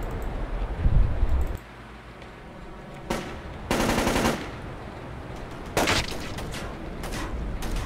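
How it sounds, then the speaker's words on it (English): Gunfire in the video game Splinter Cell: Chaos Theory, with a few sharp bursts of automatic fire at moderate loudness, separated by quieter gaps of ambient game sound. "I am being shot at."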